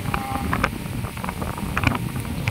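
Strong wind buffets a microphone outdoors near a patched-together hut, a constant loud rushing roar with gusty bursts and flutter throughout.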